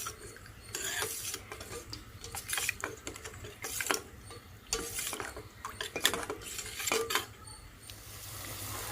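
Spoon scraping and stirring drumstick gravy with garam masala in a metal pot, a steady run of close rasping, clinking strokes with no talk.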